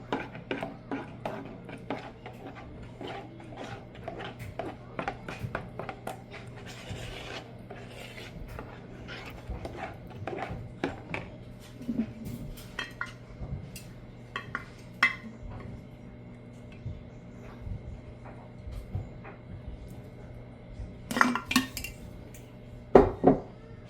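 Almond flour stirred into waffle batter in a bowl, with repeated scraping and clinking of a utensil against the dish, mostly moderate and steady, with a few sharper knocks near the end.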